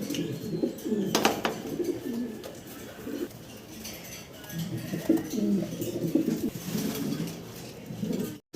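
Giraffe-necked Maltese fancy pigeons coo repeatedly at close range, low throaty burbling calls in steady rounds with faint background clatter.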